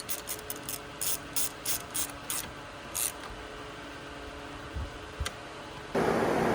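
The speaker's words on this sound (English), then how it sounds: "reconnect your battery cable, tighten it back down with your 10 millimeter" A ratchet with a 10 mm socket tightens a battery cable nut, a few short bursts of quick, close clicks followed by a pause and a couple of faint clicks before a wash of noise.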